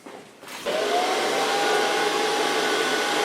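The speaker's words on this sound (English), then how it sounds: "Start blow drying with a medium brush." A hair dryer switching on to blow-dry hair with a medium round brush in a salon, a loud, steady whooshing roar with a faint whine after a brief quieter moment, no talk.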